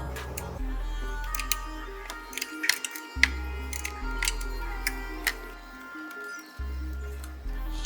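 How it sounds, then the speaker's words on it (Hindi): A 12 mm spanner works loose the side nuts on the front shock of a Honda CD 70 motorcycle: small metallic clicks and ratcheting ticks come close up over a steady low hum in a quiet workshop. "अब मैं 12 का स्पिनर उठा के साइड वाले इसके झमके नट खोल देता हूँ।"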